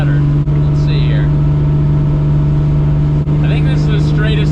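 A car rolls along the road after a home wheel alignment, with a steady low engine and road hum under continuous cabin talk.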